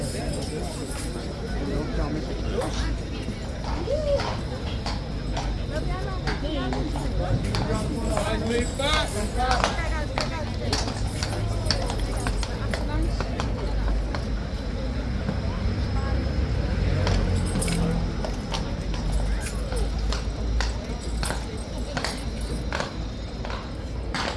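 A guard's horse clip-clops across a crowded yard, its hoof strikes sharp and irregular amid a steady murmur of people, distant traffic and occasional voices nearby.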